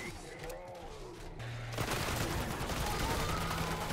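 Shotgun fire and heavy gunfire in a Black Ops 6 match, quiet at first and then swelling into a dense, continuous roar of shots under faint game sounds.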